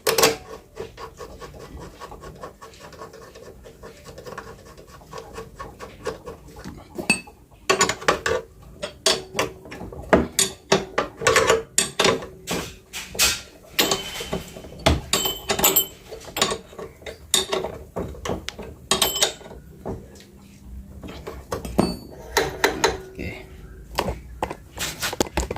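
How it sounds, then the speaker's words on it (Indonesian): Metal clinks, scrapes and ratchet-like taps repeat in irregular bursts as the lower bolt of a Yamaha motorcycle's front shock absorber is fitted by hand, close up, with someone talking throughout. "Kita pasang baut bawahnya."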